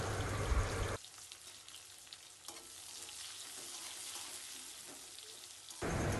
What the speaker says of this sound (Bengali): পেঁয়াজ আর কাঁচা লঙ্কা লাল লাল করে হালকা ভেজে নেব